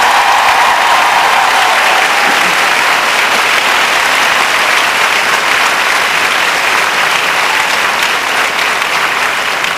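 A large conference crowd of professional businesswomen applauds loudly and continuously, dense clapping filling the hall for nearly ten seconds with no pause.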